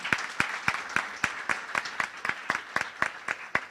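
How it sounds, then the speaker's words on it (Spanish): Audience applause at a leadership panel during a conference, a steady run of claps close to the mic, loud and even across the room with no voices over it. "Así que un aplauso para ustedes también"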